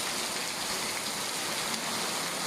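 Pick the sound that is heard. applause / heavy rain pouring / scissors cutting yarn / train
heavy rain pouring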